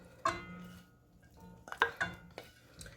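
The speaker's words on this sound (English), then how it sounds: "So we're going to add the beef back into the pot" Beef cubes and their juices are tipped back into a stew pot, heard as quiet clinks and scrapes of a utensil against the pot with a few soft knocks.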